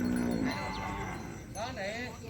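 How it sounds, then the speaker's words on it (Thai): Cattle low in long, wavering moos at a cattle and buffalo market in Nong Kham, Khon Sawan, Chaiyaphum, Thailand, with one nearer call following a fainter one over crowd murmur. "วันนี้ก็มีวัวมีควายเขาตลาดหลายอยู่พี่น้อง"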